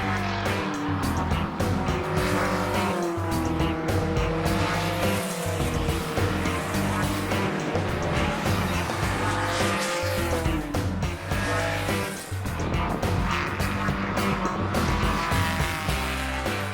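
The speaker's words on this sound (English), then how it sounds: "The hot, sweltering air was full of glorious sounds from Alpine straight 4s, Porsche and BMW 6s and assorted V8s, and V12s and a number of Ferraris" Race cars with Alpine straight-4, Porsche and BMW six-cylinder, V8 and V12 engines, including Ferraris, roar continuously on track, loud and dense with overlapping engine notes, passes and occasional tire squeal.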